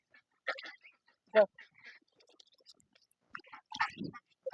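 Household ducks quack in short, scattered bursts at close range, with voices calling to them between the calls.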